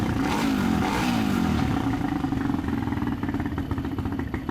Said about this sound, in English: It has a great factory exhaust note with just a bit of snarl.